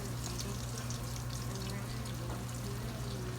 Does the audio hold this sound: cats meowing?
no